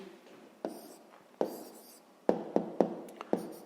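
Pen or chalk writes out a math answer in a sixth-grade lesson, a series of sharp taps and short scratching strokes, close and sparse with small pauses between, no talking.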